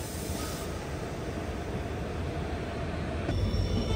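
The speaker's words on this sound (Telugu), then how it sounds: "shunting loco అనుకోండా" A shunting locomotive hauls train coaches through an industrial area near Tatanagar, giving a steady low rumble of moving rail cars with a faint high wheel squeal; the sound grows slightly louder near the end.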